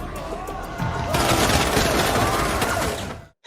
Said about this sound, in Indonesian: Yongdong pun menembaki siswa lain yang berusaha kabur.